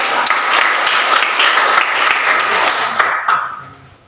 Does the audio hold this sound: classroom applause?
yes